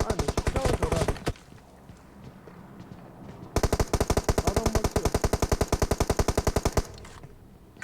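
Rapid automatic gunfire in a shooting video game, with a short burst followed after a pause by a longer sustained stream of loud, evenly spaced shots.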